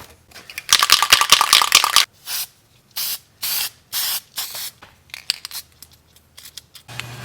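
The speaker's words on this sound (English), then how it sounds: "take some of my white gloss paint and spray everything down" A spray can of white gloss paint hisses over a holiday model train layout, first in one long burst, then in a series of short, sharp, close spurts separated by brief pauses.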